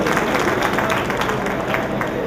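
Audience applause at a kavi sammelan, a Hindi poetry gathering held in Hyderabad, with dense, steady clapping that stays loud throughout and has a crowd murmur mixed in.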